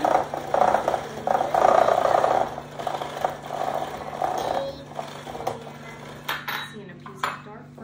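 A mixer churns giant cosmic brownie cookie dough in a bowl, a steady rattling whir with clinks against the bowl, loud at first then easing as the mixing slows.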